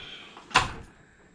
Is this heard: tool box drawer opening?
yes